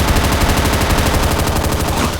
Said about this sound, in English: The M1917 machine gun is a unique weapon which is quite similar to the other weapon mod I showcased.